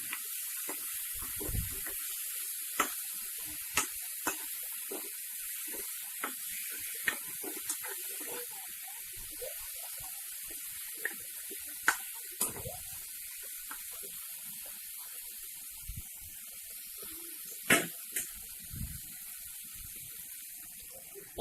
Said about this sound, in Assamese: এতিয়া মই ইয়াত অলপ পানী এড কৰি দিছোঁ।